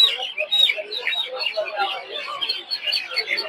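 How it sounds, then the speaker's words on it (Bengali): Young tiger chicken chicks at a poultry and bird market peep and chirp continuously in a dense, overlapping chorus, close and moderately loud. "দেখতে পাচ্ছেন এই জায়গায় হচ্ছে টাইগার মুরগি বাচ্চা।"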